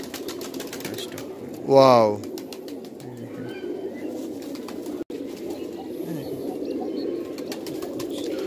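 Kamagar pigeon chicks coo softly nearby amid low background rustle, while a voice briefly exclaims and talk carries on around them.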